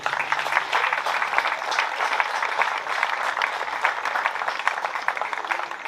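Applause for the match officials at a state league grand final basketball game, Morley versus Braves, a steady wash of clapping that fills the whole stretch at moderate level with no voices over it.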